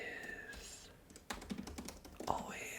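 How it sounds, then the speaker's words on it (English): Keyboard typing in an ASMR setting: soft, close clicks and taps in irregular bursts after a quiet start, with faint whispered talk mixed in. "Typing."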